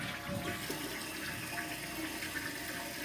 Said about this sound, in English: when you flush the handle,